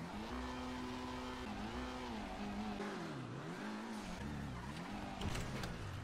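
A car engine in the video game GTA drones steadily with wavering pitch as it revs up and down, a continuous mechanical hum sitting at a moderate level with no talk.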